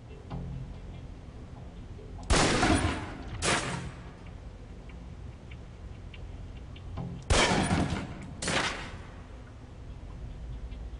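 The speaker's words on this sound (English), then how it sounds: "Equip the pistol, then aim down range and take some shots at the target." Pistol shots fired at a range target in the Alpha Protocol video game: two pairs of sharp cracks, each pair a second apart, about five seconds between pairs, over a low steady game hum.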